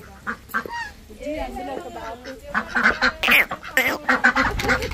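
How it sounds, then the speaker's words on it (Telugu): Ducks on a farm quack and honk in busy, overlapping bursts close by, the calls getting louder and denser toward the end, with faint voices mixed in. "ఇక్కడ ఈ ఫామ్ హౌస్ లో బాతులు ఉన్నాయి"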